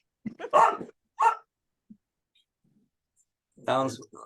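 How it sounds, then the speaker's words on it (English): A pet dog barks indoors during a worship leaders' conference call, giving a few short, fairly close yelps separated by pauses. "Now my dog's gonna bark."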